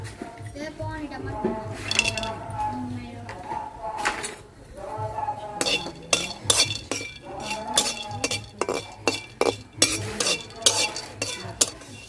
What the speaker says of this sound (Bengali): প্রথমে আমি শুকনা খোলায় এলাচ দারচিনিটা একটু হালকা ভাইজে নেব